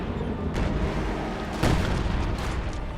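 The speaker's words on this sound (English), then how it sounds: "we have Lipton counter barraging with Panzerwerfer right on these mortars here" A Panzerwerfer rocket artillery barrage in Company of Heroes 2 pounds enemy mortars, with dull booms and impacts rising out of a steady, noisy battlefield rumble.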